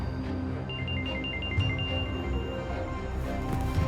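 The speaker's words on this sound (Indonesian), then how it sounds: "izin angkat telepon sebentar nggak apa-apa ya?" A telephone ringtone chirps in a repeating electronic pattern over a steady background hum, with no talking.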